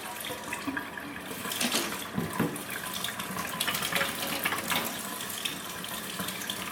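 A tap runs to wet a makeup brush, a steady close splashing stream of water into a sink with shifting spatter as the brush passes through.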